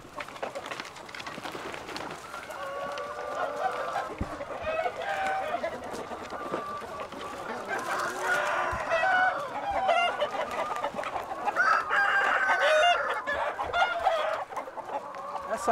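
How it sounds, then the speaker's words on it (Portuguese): Chickens in a free-range pen cluck and chatter continuously, with overlapping calls and a crowing rooster, a busy, moderately loud flock that grows denser toward the end. "E é uma área onde as galinhas vêm exercitar o seu comportamento exploratório."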